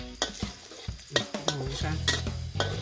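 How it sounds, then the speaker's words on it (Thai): Garlic stir-fried in hot oil in a pan while cooking pork with three kinds of chillies, with crackling sizzle under repeated scraping and clanking spatula strokes, close and steady. "แล้วก็ผัดกระเทียมให้หอมก่อนนะคะพี่น้องเนาะ"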